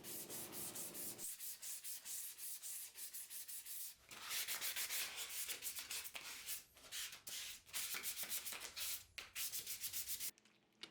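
Steady abrasive sanding across walnut and maple end grain on a cheese board, close and loud, with rhythmic strokes that shift in pitch partway through and stop abruptly near the end.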